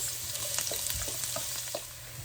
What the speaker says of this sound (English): Once your oil is hot, you can go ahead and add in the onions.